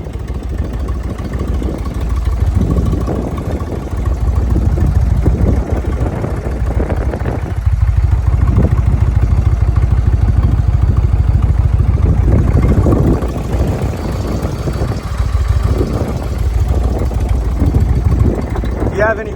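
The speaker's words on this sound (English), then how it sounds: "2018 Indian Chieftain Bagger motorcycle" A 2018 Indian Chieftain Bagger motorcycle engine idling with a low steady rumble throughout, loud and close, under someone talking nearly continuously.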